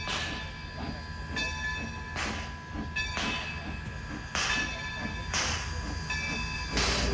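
A 1929 Baldwin 0-6-0 steam locomotive, number 26, runs along the track at Scranton Railfest, giving a steady rolling rumble punctuated by repeated sharp clanks and bursts, loud and continuous, with no talking.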